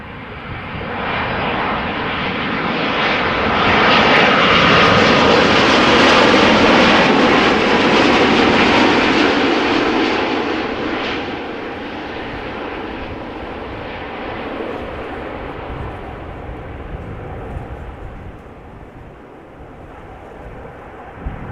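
Airliner taking off at Amsterdam Schiphol, a loud broadband jet roar swelling to a peak as it passes, then slowly fading into the distance with some wind noise.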